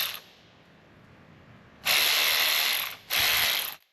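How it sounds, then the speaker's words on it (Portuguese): A cordless battery-powered ratchet wrench runs in two close, loud bursts, a long whirring ratchet spin followed by a brief pause and a shorter second run, with no talking. "uma chave de catraca à bateria"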